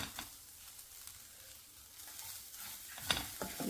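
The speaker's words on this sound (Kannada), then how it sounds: "ಮೆಂತ್ಯ ಸೊಪ್ಪನ್ನು ಕೈ ಹೋಗೋ ತನಕ ಚೆನ್ನಾಗಿ ಹುರ್ಕೊಳ್ಳೋಣ" Fenugreek leaves frying in a pan for a chutney, giving a faint, steady sizzle with soft stirring scrapes and one brief sharper clink near the end.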